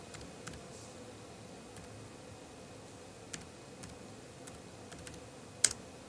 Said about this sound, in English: just typing on the keyboard will initiate a Google search